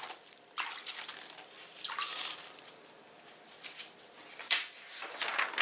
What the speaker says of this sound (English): And then just splash some water onto that.